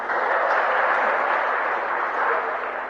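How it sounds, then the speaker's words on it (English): Steady applause from an audience at a campus forum, a dense continuous wash of many hands clapping at moderate volume for a few seconds, with no voices on top. "So give a round of applause to the University of Nairobi."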